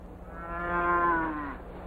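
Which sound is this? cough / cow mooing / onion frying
cow mooing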